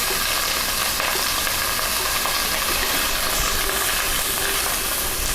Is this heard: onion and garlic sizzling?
yes